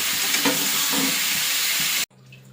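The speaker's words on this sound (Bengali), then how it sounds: "কাঁচা লঙ্কা আর নুন হলুদটা দিয়ে দেবো, দিয়ে ভেজে নেবো, ভালো করে ভাজবো" Green chilli frying with salt and turmeric in a home kitchen pan gives a loud, dense, steady sizzle, with a few stirring knocks in it, that cuts off abruptly near the end and leaves a quieter background.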